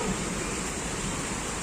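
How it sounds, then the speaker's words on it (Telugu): Heavy rain pours down in a dense, unbroken wash of hiss that stays loud and steady the whole time, with no voices. "ఫ్రెండ్స్ ఇప్పుడైతే మా దగ్గర మస్తు వాన వస్తుంది."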